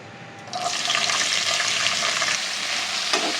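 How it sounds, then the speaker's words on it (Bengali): Capsicum tossed into hot oil tempered with dry red chilli, bay leaf, cardamom and black cumin, bursting into a loud, steady sizzle about half a second in that holds evenly to the end, with no voices. "একটু নাড়াচাড়া করে নিয়ে এরপরে দিয়ে দেবো ক্যাপসিকামগুলো।"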